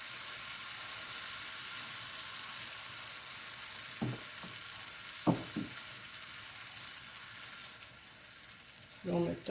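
Apple crêpe batter fries in a pan with a soft, steady sizzle and hiss. A few faint clinks and pan knocks come partway through.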